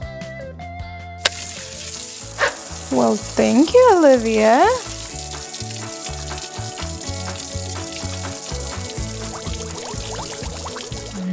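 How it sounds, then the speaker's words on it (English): Water runs in a toy washing machine as a steady hissing pour with background music, and a voice speaks briefly. "Can I start the water?"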